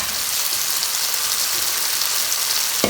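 Vegetables sizzle in a pan for a chickpea and potato curry, a loud, steady hiss of frying that continues without a break, with a brief bump at the very end.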